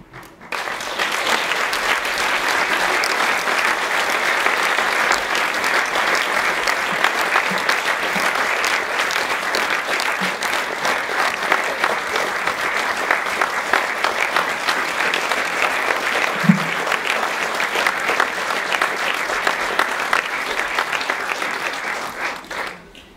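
An audience at a school culture awards ceremony applauds the winning schools, a dense, sustained round of clapping that holds steady for over twenty seconds before fading out at the end.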